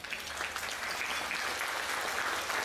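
Steady, dense clapping from a crowd at the Saint-Lô fair in 2013, sustained and even throughout without a break.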